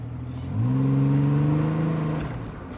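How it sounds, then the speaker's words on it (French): Pontiac Fiero GT sports car engine, an 80s model, idling then rising to a steady, sustained hum that holds for about two seconds before easing off, heard close and alone. "le bruit du moteur"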